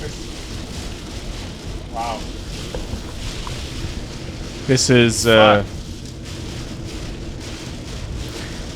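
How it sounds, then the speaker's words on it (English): Heavy rain from a wicked rainstorm roars steadily throughout, a dense wash of downpour noise with wind, while people exclaim and talk briefly over it. "we are in the midst of a wicked rainstorm right"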